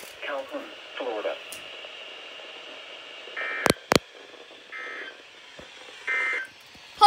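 NOAA weather radio station KIH-24 in Tallahassee, Florida, with a flash flood warning broadcast: a few steady electronic alert tones a second or so each, plus two sharp bursts, over faint radio hiss and talk.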